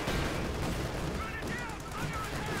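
Kampfwagenkanone autocannon fire in a World War tank video game, a dense run of rapid sharp bursts over the battle din, loud and close throughout.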